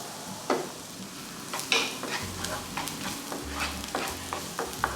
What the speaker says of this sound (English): We're gonna cook that for a minute or two until we can smell the garlic.